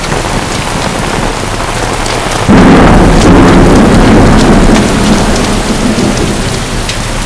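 A thunderstorm with heavy rain, a steady wash of rainfall that swells into a loud, rumbling surge of thunder partway through and stays dense and close, with no voices.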